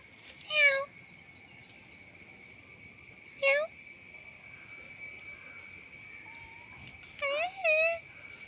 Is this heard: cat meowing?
yes